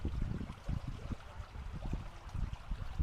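Water flows and trickles steadily in a park stream, a close, low rushing murmur with gurgling pulses running throughout.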